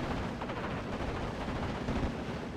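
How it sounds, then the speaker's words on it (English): Dense, continuous gunfire and artillery rumble from a World War II battle in the strategy game Steel Division: Normandy 44, with Spitfires strafing Panzergrenadiers; the shots blur into a loud, unbroken roar with no voices. "Spitfire's going to be strafing the Panzergrenz here as they come in"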